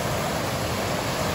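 A waterfall roars as a continuous, even wash of rushing water, heard from the upper part of the falls with no pauses or other sounds.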